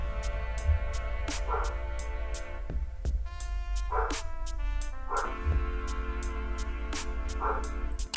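A dog barks repeatedly in short, loud bursts with brief gaps, fairly close, over a steady low hum and soft background tones.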